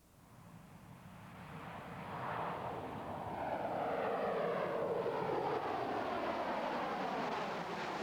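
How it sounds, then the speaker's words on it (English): An airplane takes off from a runway, its engine roar swelling from moderate to a loud sustained rush with a rising, sweeping whine, close and alone without talking. "when the path is clear, the plane takes off."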